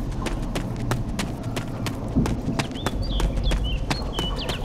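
A video game character running in DayZ, producing quick, regular footfalls thudding close and continuously, with faint bird chirps in the background and no talk.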